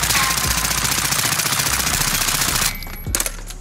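Sykov pistol from Modern Warfare emptying a full 80-round magazine in one long, dense, unbroken stream of rapid automatic fire, loud and close, cutting off sharply near the end.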